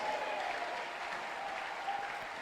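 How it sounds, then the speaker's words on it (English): A church congregation claps hands together in praise, a dense, steady wash of applause filling the room for a couple of seconds with no break. "Clap your hands for the Lord."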